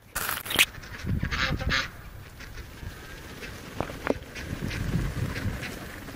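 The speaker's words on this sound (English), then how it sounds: "get married while the ducks are here" Ducks honking and quacking outdoors at a small wedding, several loud close calls at the start and scattered calls afterward, with no talk.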